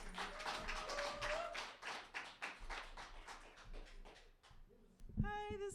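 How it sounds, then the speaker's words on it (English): Audience applause at a small open mic poetry event, a steady patter of clapping hands from a modest crowd filling most of the moment, tapering near the end. "Give a round of applause."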